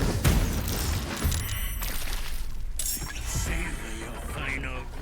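Fireworks exploding in Baldur's Gate 3, a loud burst of crackling, shattering blasts with sizzling sparkle tails that stays dense and continuous throughout.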